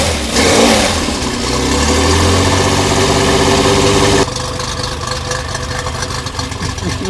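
The 3.3-litre V6 engine of an Alpine A310 GT roars to life loudly up close, revving high at first, then cutting down to a rougher, quieter idle.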